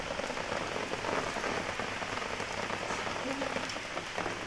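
Rain falls steadily outdoors on a rainy day, a dense, continuous patter of drops on surfaces that holds at a moderate level throughout, with no talk over it.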